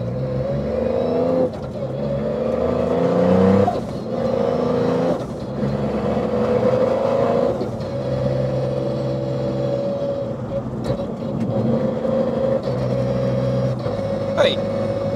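A Toyota GR Yaris three-cylinder turbo engine producing over 300 kW, heard from inside the car, revs and pulls through the gears with a droning engine note under excited talk from the occupants.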